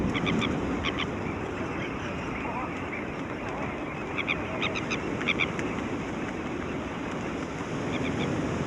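Flocks of terns and gulls nesting on barren desert islands call in scattered, distant, repeated cries over a constant windy, surf-like wash, with music or narration faintly underneath.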